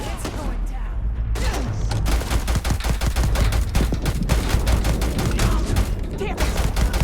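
Rapid gunfire fills a firefight in the video game Starfield: dense, loud bursts of shots crackle almost continuously, close and sharp throughout.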